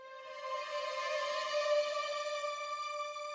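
Layered strings in an R&B sample transition, one string note given pitch automation so it slides upward, swell into a sustained, bright, even chord that holds steadily for a few seconds with no voices.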